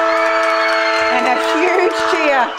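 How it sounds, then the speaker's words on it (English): Loud crowd cheering and shouting erupts at the close of a women's under-18 Australian rules football match between Western Australia and the Allies, sustained roar with voices and commentary-like talk mixed in. "a huge cheer from the Allies"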